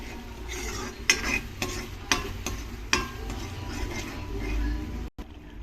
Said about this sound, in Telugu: స్టవ్ మీద ఒక ప్యాన్ పెట్టుకొని ఇందులో కొద్దిగా ఆయిల్ కొద్దిగా హీట్ అయ్యాక ఇందులో మసాలా వేసుకొని ఈ మసాలాను కొద్దిగా వేయించుకోవాలి.